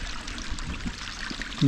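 Water from the Mullaperiyar dam pours and rushes steadily in a continuous wash of noise, fairly faint and unbroken throughout.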